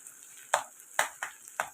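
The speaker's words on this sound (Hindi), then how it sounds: "ये फ्राई हो रहा है।" Eggs and mixed vegetables fry in a pan with a steady close sizzle, broken by four sharp scraping stirs of a spatula spaced roughly evenly apart.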